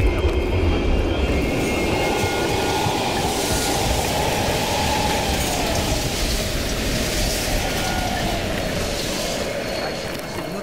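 A train rumbles past in the Call of Duty Cold War campaign at an abandoned station, giving a loud, continuous roar of rolling wagons that holds steady for about ten seconds with no talk over it.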